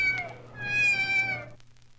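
A single drawn-out cat meow, close and clear, rising then trailing off in about a second and a half.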